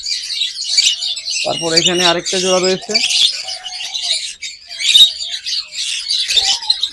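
White lovebirds chatter with rapid, high chirps and tweets nearly nonstop, close by, while someone speaks briefly in the middle.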